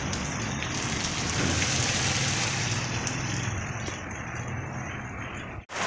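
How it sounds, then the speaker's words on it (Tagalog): Steady heavy rain falls in a residential area in Green Gate, Imus, Cavite, with a dense, continuous hiss close by that continues without pause until a brief dropout at the very end. "maulan po ngayon dito po sa amin sa Green Gate"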